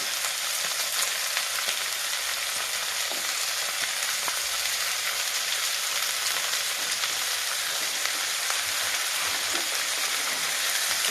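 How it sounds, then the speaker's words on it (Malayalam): Ivy gourd sizzles steadily in a pan as a ground spice paste goes in, a dense, even crackle like rain on a surface with light stirring ticks, loud and close with no talking. "കോവയ്ക്കയിലേക്ക് ആദ്യം അരപ്പ് തയ്യാറാക്കിയത് ചേർക്കുകയാണ്"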